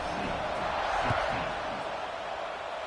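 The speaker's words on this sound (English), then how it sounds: "this crowd now ready to get behind them" A football stadium crowd roars in a broad, steady wash of cheering just before kickoff, sustained and distant-sounding, with a broadcast voice speaking over it.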